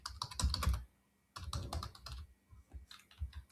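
Typing on a computer keyboard, close by, in quick bursts of clicking keystrokes separated by short pauses.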